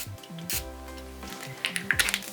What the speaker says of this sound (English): I'm just going to actually spray it again with loads of water to try and dilute it